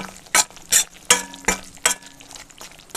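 Wheat flour dry-roasting in a pan over low heat, stirred with a utensil in about five even, rhythmic scraping strokes with a soft sizzle between them. No voices are present.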